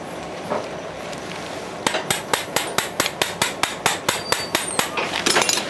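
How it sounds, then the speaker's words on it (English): A surgical hammer taps a suture anchor into bone during multi-ligament knee repair surgery, about fifteen sharp metallic strikes in a steady, fairly quick rhythm following a quiet operating room hush. "Anchor hammer, please."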